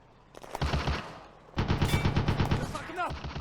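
Machine gun fire in the war game Firefight, set on the Eastern Front in 1941: two rapid bursts of shots, the second longer and louder, close and dense, with a brief shout near the end.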